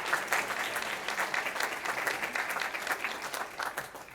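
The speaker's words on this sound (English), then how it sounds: "One more round of applause, yes." A school board meeting audience gives a round of steady, even applause that carries on for several seconds with a moderate, roomy clatter of many hands.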